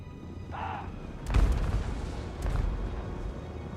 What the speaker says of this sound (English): our Trebuchet is in range and we'll start firing.